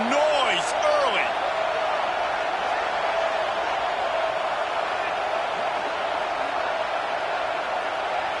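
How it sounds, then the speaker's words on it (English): Stadium crowd in the NCAA 25 college football video game, a continuous broad roar of cheering that holds steady and fairly loud from start to finish. "This crowd bringing the energy and noise early."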